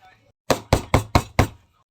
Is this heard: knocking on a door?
yes